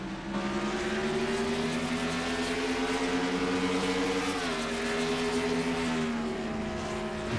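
Onboard sound from a race car in an amateur league race at Canadian Tire Motorsport Park, a loud, close engine holding a steady high drone with a brief dip and recovery in pitch.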